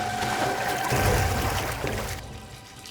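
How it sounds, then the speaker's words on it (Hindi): Water running or pouring continuously at close range, a broad steady wash with a low rumble that eases toward the end, with no voices. "पानी की आवाज?"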